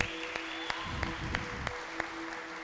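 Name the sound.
church congregation applauding the pastor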